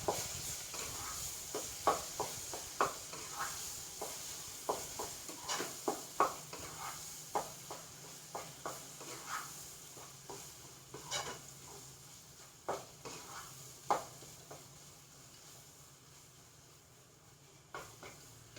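Curry leaves pickle being stirred in a pan, a spoon scraping and knocking against the metal in an irregular rhythm over a soft sizzle, close by with no talking.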